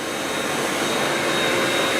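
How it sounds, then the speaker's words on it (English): A motion-activated blow dryer at a campground runs with a steady, loud whooshing roar of forced air, close and constant for the full two seconds. "get underneath the old blow dryer"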